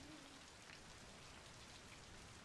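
Steady rain hisses evenly throughout a rainy level of the Left 4 Dead 2 video game, a dense, constant wash of drops with no pauses or voices.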